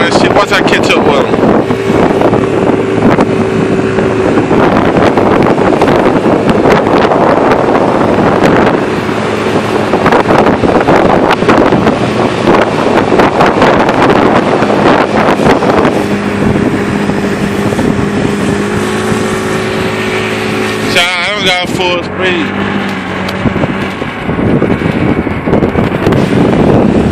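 Riding a 50cc scooter produces constant heavy wind buffeting on the microphone over a buzzing small engine, loud and close throughout, with occasional voice underneath.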